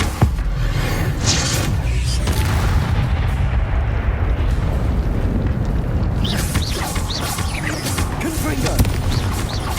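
Repeated Confringo fire spell blasts in Hogwarts Legacy, loud booming bursts over a dense, continuous rumble of in-game battle noise.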